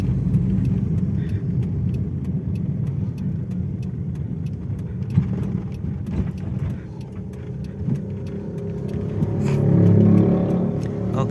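A Mazda Familia Lantis 323 car is being driven, giving a steady engine and road drone with a faint rhythmic ticking. Near the end the engine note briefly swells as it picks up revs.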